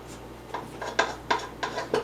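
A spatula scrapes the sides and bottom of a mixing bowl of candy cookie dough, making about five short rasping strokes in a steady rhythm, close and clear.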